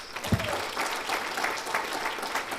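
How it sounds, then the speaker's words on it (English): Audience applauding at a hospital award ceremony and gala dinner: a dense, steady wash of many hands clapping throughout, with a brief voice near the start. "Team Fezi, you deserve a big round of applause."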